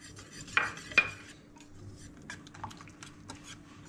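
Kadhi stirred in a cooking pot with a spoon, two sharp metallic clinks against the pot early on, then lighter scraping and tapping, fairly quiet and close, no talk.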